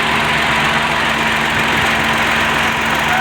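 An Al-Ghazi tractor engine roars loudly and continuously while stuck in sand, a heavy rumbling drone that sounds like it is laboring under load, close by.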